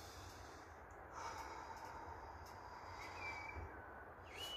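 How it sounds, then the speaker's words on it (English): Slow, steady breathing during a seated glute stretch, soft and close over a constant low room hum, with faint breath swells and a few small clicks. "So breathing in"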